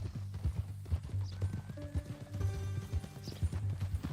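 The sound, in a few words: horse hooves clip-clopping, from a video game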